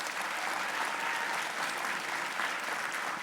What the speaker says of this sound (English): Let's give Blake a round of applause.